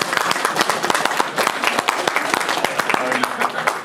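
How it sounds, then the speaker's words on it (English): At a fan convention panel, an audience claps with loud, distinct individual hand claps forming a lively, uneven patter throughout, with voices mixed in beneath. "applause."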